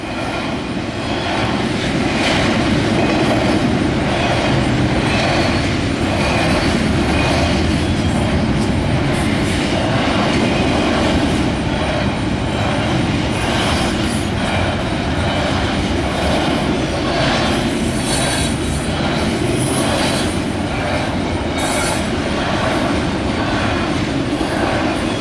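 A big freight train rolls past in Missouri, loud and near, its steady heavy rumble and clatter continuing without a break for the whole stretch.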